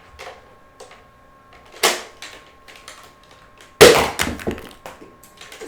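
A Nerf Sledgefire blaster loaded with a Radioactive Designs shell fires two Nerf Rival rounds, giving a sharp snap near two seconds and a louder, heavier crack near four seconds, with small clicks and handling noises in between.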